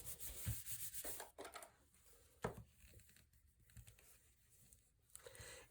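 A glued paper page is burnished by hand, giving soft scattered rubbing and scraping strokes, close and quiet with gaps between them.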